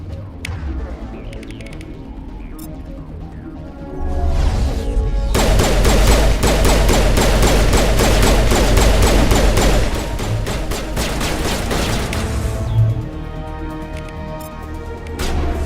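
Sustained automatic gunfire from the video game Mass Effect, a loud dense burst of rapid shots lasting several seconds between quieter stretches of combat noise, with no talking over it.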